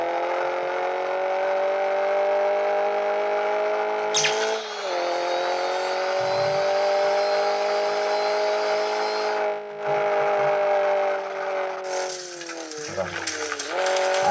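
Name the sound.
car engine revving in Minecraft video game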